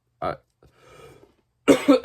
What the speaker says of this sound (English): The cough is hardcore right now.